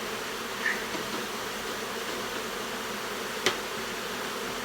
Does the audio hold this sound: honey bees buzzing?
yes